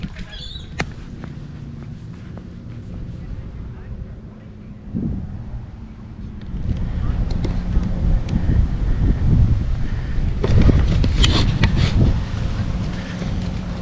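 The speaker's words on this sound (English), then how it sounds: "Probably a little bit windy at the moment" Gusty wind buffets the microphone at a campsite on South Stradbroke Island, a low rumbling roar that builds from quiet to strong, steady gusts with occasional knocks.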